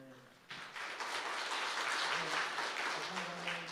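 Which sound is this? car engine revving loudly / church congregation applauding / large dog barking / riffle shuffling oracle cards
church congregation applauding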